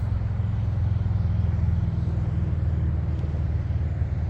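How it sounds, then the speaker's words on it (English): Cars on a busy road near a highway off ramp, a dense, continuous low rumble of passing traffic at steady loudness, with no talking. "I'm going to show you some cars, how the traffic is right now."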